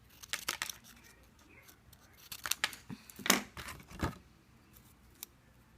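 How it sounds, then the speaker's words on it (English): Scissors cutting a small handmade craft piece, giving several crisp snips and rustling paper-like crunches in irregular bursts, close and fairly quiet with no talk. "I'm just going to cut it."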